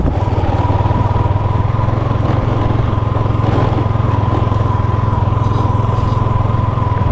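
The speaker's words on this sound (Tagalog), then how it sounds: "First time ko magamit yung motor na Kuya Japper, yung sniper." A Sniper motorcycle's engine runs loud and close in a steady, buzzing drone at constant speed with no change in pitch or gaps, and no one speaks.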